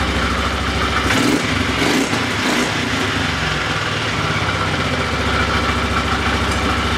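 A Polaris Sportsman 500 ATV engine idles steadily after repair, with no backfiring, a close, continuous loud running note and a brief rise in revs early on before settling back to an even idle throughout.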